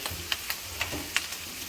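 Oyster sauce and Maggi get stirred into a frying dish in a hot pan, a soft sizzle running underneath while the utensil scrapes and taps in short, irregular strokes close by.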